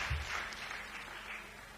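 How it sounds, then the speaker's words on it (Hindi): An audience at a Hindi satirical poetry performance applauds with steady, fairly faint clapping that spreads through the room. "एक बार तालियां बजा दे"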